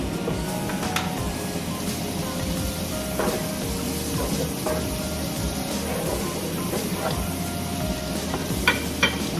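Butter sizzles in a hot pan while beef mechado is cooked, a dense continuous frying hiss with faint clinks, close and steady throughout.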